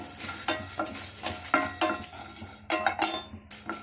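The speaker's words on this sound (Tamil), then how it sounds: "இதுக்கு நான் எடுத்துருக்கிறது கொத்தமல்லி மிளகா மிளகு பட்டை ஏலக்காய் கிராம்பு ஜீரகம் இது எல்லாத்தையும் போட்டு நல்லா வதக்குங்க" Coriander, chilli, pepper, cinnamon, cardamom, cloves and cumin dry roasting in a pan for a mutton sukka masala, with repeated scraping strokes of a spoon against metal over a soft background sizzle, no speech.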